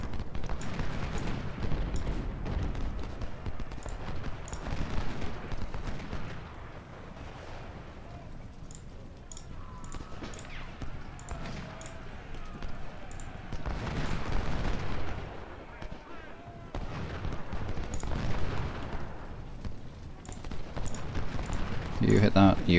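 Cannon and artillery fire booms repeatedly across a battlefield in the Civil War strategy game Ultimate General: Civil War, with heavy rumbling volleys rising and fading while someone talks over them.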